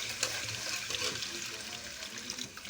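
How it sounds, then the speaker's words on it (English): Water pours steadily into a soup pot while preparing otong soup, a continuous close rushing splash with no talk. "So I will now add water to it."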